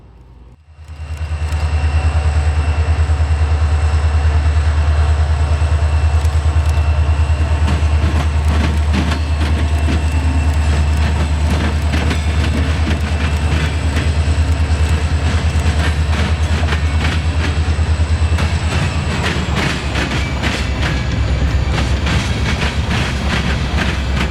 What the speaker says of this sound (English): We're waiting on the southbound empty coal train from the Sandusky coal dock.